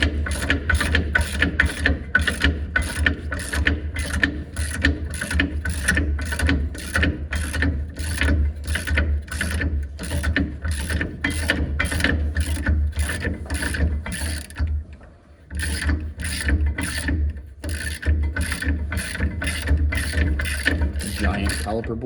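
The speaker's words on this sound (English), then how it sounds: "So we're going to use the wrench. Sorry, the ratchet." A ratchet loosening a brake caliper bolt on a Nissan Frontier gives a fast, steady run of sharp clicking strokes that continues close-up and loud for about twenty seconds, with one brief pause midway.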